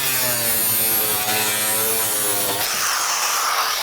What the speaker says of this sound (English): nothing beats the speed of an angle grinder